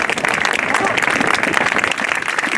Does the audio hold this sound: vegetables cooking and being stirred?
no